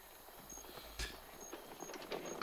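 Horse hooves clip-clop at a steady walking pace in Assassin's Creed Origins, a moderately close, even rhythm of soft thuds running throughout with no one talking.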